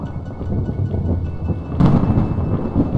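Video game thunderstorm: rain hisses steadily while a loud crack of thunder bursts in about midway and rumbles on, fairly close and with no voices.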